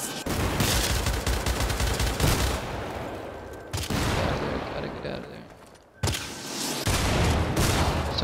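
Gunfire aimed at the player in Syndicate, dense bursts of rapid shots and heavy booms in sustained volleys, loud and close, briefly dropping away before resuming.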